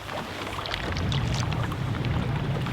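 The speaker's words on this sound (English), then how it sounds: "they're just paddling it as a raft." A canoe rafted up with others is paddled across Loch Ness, a steady low wash of water and paddle strokes under light wind rumble, close to the microphone, with no voices.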